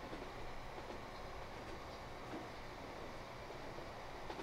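A train in the Transport Fever 2 video game climbs uphill on rails at about 100 km/h, a continuous loud rolling rumble with faint rhythmic clatter and no voices.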